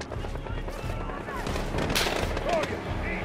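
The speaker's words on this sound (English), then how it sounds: "they're shooting at them" Gunfire in Call of Duty: Modern Warfare: scattered shots and bursts at moderate distance within a busy game soundscape, with a voice talking over them.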